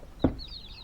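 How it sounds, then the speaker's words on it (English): A single short cluck from a chicken, close and brief, with soft thin chirping trailing after it. "there's the chickens"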